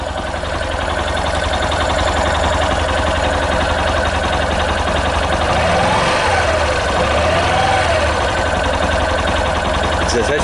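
A Yamaha Fazer 150 motorcycle engine with a melted stator winding runs continuously nearby, its loud steady drone rising and falling as it is revved twice in the middle.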